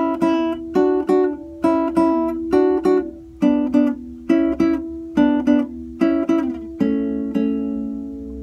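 Acoustic guitar playing a Paraguayan punteo phrase from the song Okara: a steady sequence of plucked double-stop notes in pairs, bright and close, with the last note ringing out longer, played alone.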